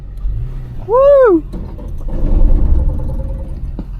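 A 2024+ Toyota Tacoma TRD Off-Road engine revving as the truck accelerates, a low, moderately loud rumble swelling after a short shouted exclamation from a voice nearby.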